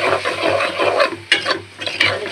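Shrimp stir-fried with ginger, garlic, turmeric, chili powder and green chilies in a pan gives a continuous frying hiss broken by several sharper scraping strokes.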